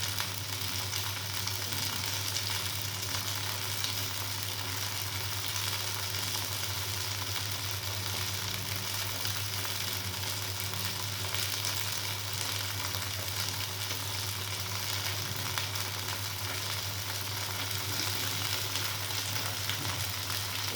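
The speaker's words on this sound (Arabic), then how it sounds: "هنشوح بقى يا حبايبي شويه في الزيت، وما يتشوح شويه بنقوم ضايفين على البصل" Onions sauté in hot oil with a continuous, even sizzle that stays close and steady throughout, with no voices over it.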